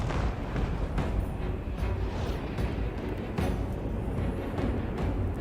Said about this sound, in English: look at that hit from that rocket artillery